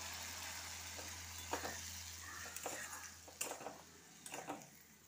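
Fried onions in a pan with chili-turmeric water added, stirred: low, soft sizzle broken by a few scraping strokes of a spatula and light clinks against the pan, near and fairly quiet, with no talk.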